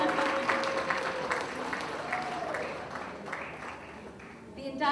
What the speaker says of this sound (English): A big round of applause for Lisa.